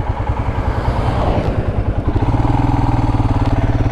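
Motorcycle ridden over a rough, potholed road, its engine droning loud and close with a rhythmic, pulsing beat that steadies toward the end amid some rattling clatter.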